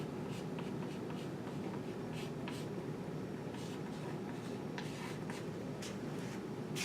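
A pen scratching out a dot product formula: steady, continuous quiet writing strokes with short sharper scratches, close and alone, no talking.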